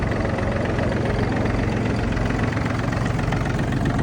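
A Yanmar RS 27 Japanese tractor's diesel engine idles steadily, a continuous low rumbling chug with a constant rhythmic knock, close and unbroken.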